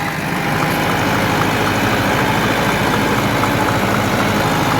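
An ATS 290 tractor engine running with a rotavator attached makes a steady, loud, dense rumble close by, unbroken for the whole stretch.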